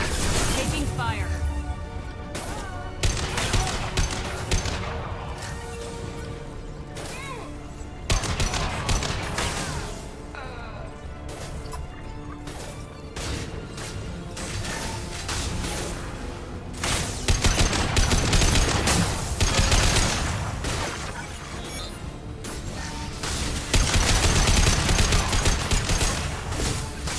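Rapid gunfire rattles through a firefight in the game Mass Effect 2, repeated bursts and impacts running throughout, with crashes and voices mixed in.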